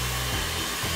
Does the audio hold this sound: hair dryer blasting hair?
yes